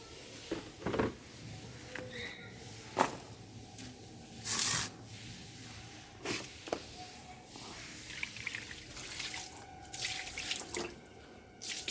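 Water splashed onto a doorstep at home: intermittent splashes and pours with drips and tap-like trickles, quiet and close, with scattered clatters between bursts.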